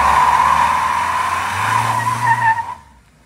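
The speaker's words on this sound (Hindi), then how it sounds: "शर्म नहीं आ रही नई गाड़ी के टायर साड़ते" A 2022 Toyota Revo pickup spins its new tyres in a loud, sustained skid, the squeal holding steady under engine rumble for nearly three seconds before cutting off abruptly into quiet.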